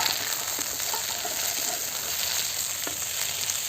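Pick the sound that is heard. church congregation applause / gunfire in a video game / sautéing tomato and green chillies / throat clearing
sautéing tomato and green chillies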